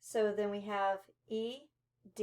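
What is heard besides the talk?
No distinct noise like a dog, phone or traffic.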